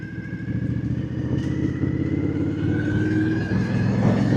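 An Aprilia Dorsoduro 900 hypermotard motorcycle is ridden on a mountain outing, its engine droning steadily close by with a rising tone as it accelerates, with no talk over it.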